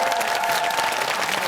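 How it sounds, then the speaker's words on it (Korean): A studio audience on a Korean TV talk show breaks into steady, sustained applause, a dense wash of clapping that holds at an even level from start to finish with no voices on top. "박수 한번 주세요."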